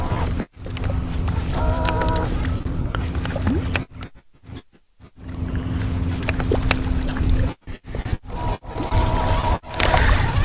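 Wind gusting across a lake while bass fishing from a boat in the grass, a rumbling buffet on the microphone with brief drops and faint boat hum beneath.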